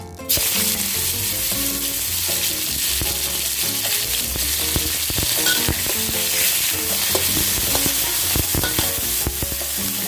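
Beef stir-fried in hot oil in a pan, a loud, steady sizzle with frequent scraping and clinking of a utensil stirring the meat, continuous and close throughout.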